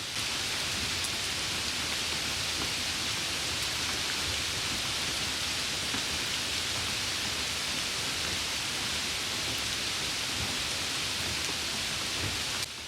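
Stormy rain pours in an animated cartoon, a loud, dense, unbroken hiss of heavy rainfall that holds steady throughout with no voices.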